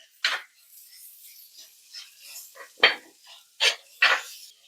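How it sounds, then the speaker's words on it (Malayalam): Sliced onions cut lengthwise are stirred in a cooking pan, giving a few separate scraping clinks of a utensil against the metal, each one short, spaced irregularly and close by, with no voices. "ഇതൊന്ന് ഇറക്കി നമുക്കൊന്ന് നല്ലോണം ഒന്ന് വഴറ്റിയെടുക്കാം"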